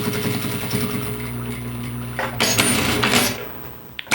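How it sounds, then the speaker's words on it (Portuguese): A sewing machine stitches a fabric pocket for a folder organizer, giving off a close, steady mechanical whir with a rhythmic hum that shifts and grows briefly louder before it stops. "Vai na máquina e passa uma costura aqui prendendo."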